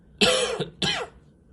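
A pair of harsh, close coughs in quick succession from a sore throat, each a short raspy burst, with quiet room tone around them.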